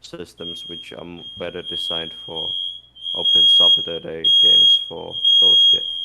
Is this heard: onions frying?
no